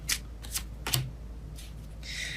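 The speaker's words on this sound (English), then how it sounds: "All right, I keep shuffling." Tarot cards are shuffled by hand in short, crisp riffling bursts, four or five quick flurries of papery flicks close up, with no voices.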